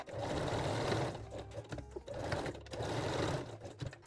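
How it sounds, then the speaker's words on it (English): Regular sewing machine stitching straight seams on fabric panties, a rapid mechanical whirring with fast needle clatter. It runs in two close bursts with a brief pause between them, fairly near and alone, with no talking. "now we can move to a regular sewing machine to finish the panties"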